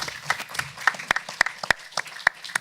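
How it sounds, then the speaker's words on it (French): Audience applause at a closing plenary session of a forum, with sharp individual claps standing out from a softer, scattered spread of clapping across the room, a few people chiming in at once. "les gens applaudissent à chaque fois que vous parlez"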